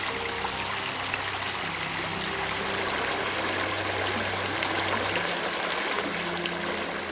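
River water flows and trickles over obstacles in a steady, fairly loud rushing wash with no pauses.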